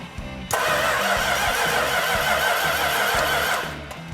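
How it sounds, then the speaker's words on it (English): A Plymouth GTX engine is cranked by the starter, giving a loud, rapid, rhythmic whirring for about three seconds, then cuts off abruptly without clearly catching. "You want to turn the ignition on, or you just want to crank it over?"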